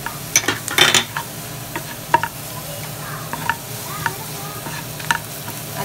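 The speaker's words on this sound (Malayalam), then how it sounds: "ഗരം മസാല ആഡ് ചെയ്ത് കൊടുത്തിട്ട് ഇനി ഇതിൻ്റെ പച്ചമണം നന്നായിട്ട് പോകുന്നവരെ നമുക്ക് വഴറ്റിയിടാം." Sliced onions sautéed with turmeric and chili powder in a pan for a quail roast, a steady close sizzle broken by scraping stirs and a few sharp utensil clinks against the pan.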